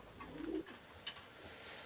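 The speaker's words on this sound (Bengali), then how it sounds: "এখানে আরও একটা পেয়ার কবুতর আমি দেখাচ্ছি" A pigeon coos softly in a low, brief phrase, with a faint higher call later, against a quiet background with no talking.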